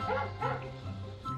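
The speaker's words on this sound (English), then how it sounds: "That's a dog." Dog barking sound effect from a guessing game: two or three sharp yipping barks with a short whine between them, close and moderately loud, with no talk in the gap.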